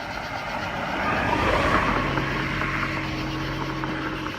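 A car drives past on a road, a broad engine and tire rush that swells and holds steady at moderate distance with no talking.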